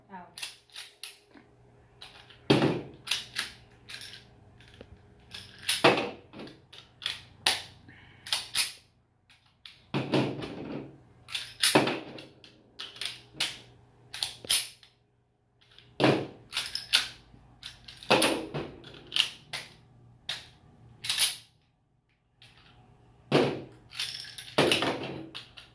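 Rounds being thumbed one at a time out of a loaded pistol magazine, producing sharp metallic clicks and clinks in an irregular series, fairly close, with brief talk in the background.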